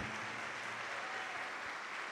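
A church congregation applauds, a soft, steady patter of many hands clapping at a distance, continuous and evenly spread without pauses.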